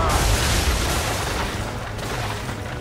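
Naval cannon fire during a ship battle in Assassin's Creed III: a loud, sustained barrage of booming blasts merging into a continuous roaring rumble that eases slightly toward the end.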